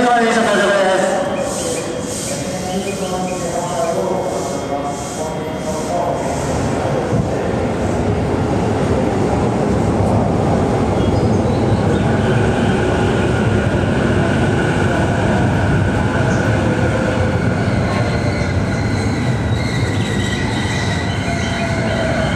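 A Saikyo Line commuter train, Sotetsu through-service set 12103F, pulls into Shinjuku station with a steady loud rumble, squealing wheels and clattering cars, while platform announcements play over it.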